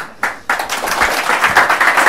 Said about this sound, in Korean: 박수 치는 거야